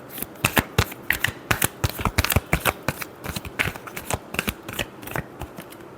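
Tarot cards riffled and shuffled in quick, crisp bursts, a rapid run of sharp flicks that repeats for several seconds, close and clear with no talk.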